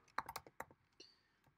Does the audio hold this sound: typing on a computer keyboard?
yes